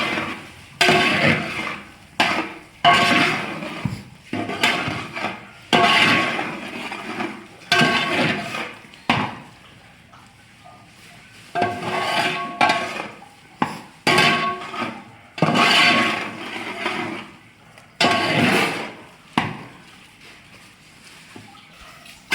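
A spoon stirs and mixes mealmaker koottu masala paste with coconut in a metal pot, a series of scraping, clattering strokes in an uneven rhythm with short pauses between, close and fairly loud, no talk.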